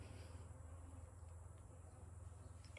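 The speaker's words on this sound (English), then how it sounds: "There's a bee just swarming around me." A bee buzzes around a campsite near fruit and watermelon during solo camping in Texas, a faint, steady low hum that continues throughout without talking.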